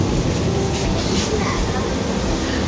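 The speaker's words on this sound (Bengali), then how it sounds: "ফাইনালি ট্রেনে উঠে পড়েছি ট্রেনটা ছেড়েও দিয়েছে" A moving passenger train's interior gives a steady rumbling, rattling drone throughout, loud and close, with a voice faintly present.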